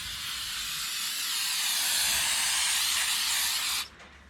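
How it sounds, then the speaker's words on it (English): Carb cleaner sprayed in one long continuous hissing burst over the oil pan of a 2003-07 Honda 3.0L V6, loud and close, cutting off abruptly near the end. "I just like to spray down basically the entire thing with carb clean"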